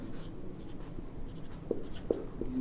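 Writing on a board for an accounting lesson, with faint soft strokes and a few brief squeaks toward the end over a quiet background.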